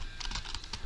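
Short burst of commands typed on a computer keyboard: five or six quick, close key taps in under a second, alone and fairly quiet.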